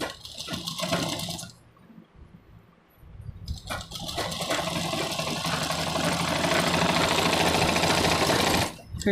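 Sewing machine running in steady bursts while stitching together the seam of a men's kurta, a loud close whirring hum that stops briefly midway and then resumes continuously, with no talking.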